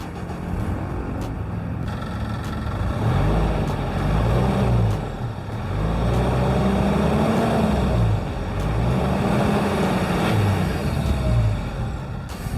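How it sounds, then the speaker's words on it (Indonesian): A high-mileage diesel car running on biosolar fuel, about 250,000 km on the clock, idles steadily with a smooth, low, continuous engine hum and slight rhythmic swells, heard close and alone without speech. "Kita starter dengar suaranya seperti apa."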